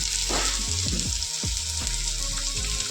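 Nigella seeds dropped into hot oil with onions sizzle and crackle steadily in a pan, with a few scraping stirs of a spoon across the bottom; close and continuous, no voices.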